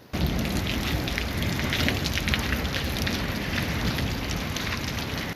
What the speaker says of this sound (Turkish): Kütahya'nın Altıntaş ilçesinde yarım saat süren şiddetli yağmur ve dolu sele neden oldu.